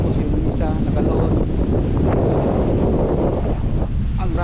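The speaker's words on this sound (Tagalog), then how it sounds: "Ang grabing hangin guys." Strong wind buffets the microphone outdoors at a milkfish weighing spot by the water, a loud, constant roaring rumble with a few faint voices in the background.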